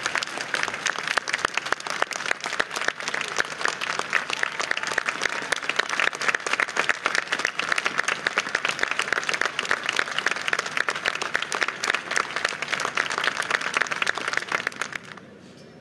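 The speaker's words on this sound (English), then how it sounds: "Please welcome them warmly with your applause." Warm audience applause at an outdoor monument dedication in Washington DC, greeting Holodomor survivors: dense, steady clapping for about fifteen seconds that cuts off abruptly at the end.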